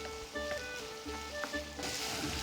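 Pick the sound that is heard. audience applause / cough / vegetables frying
vegetables frying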